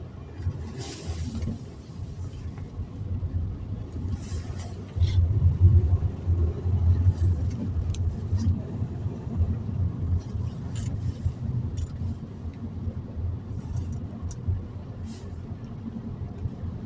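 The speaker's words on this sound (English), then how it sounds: "Traffic coming from the right today." Road traffic passes beside a platform on the A449 through Penkridge, a low steady rumble that swells as vehicles go by, with faint scattered clicks over the continuous drone.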